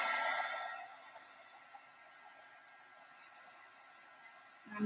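Hair dryer blowing on a decorated envelope, a loud airy whoosh that cuts off after the first moment, leaving a faint hiss before a brief burst returns at the end.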